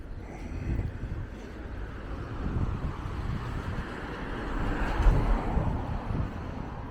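Gusting wind buffets the microphone on a Blackpool street, a steady broadband roar that swells and eases, surging loudest near the end, with no talk over it.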